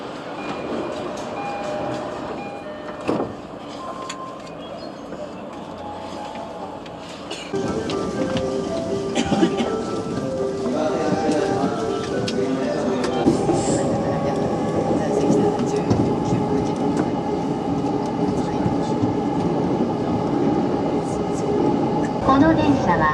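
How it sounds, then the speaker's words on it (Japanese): Yamanote Line train in Tokyo on the outer loop toward Shibuya and Shinjuku, a steady rumble and rattle of carriages in motion, growing louder and fuller after the first few seconds and continuing under announcements. "この電車は山手線外回り渋谷新宿方面行きです。"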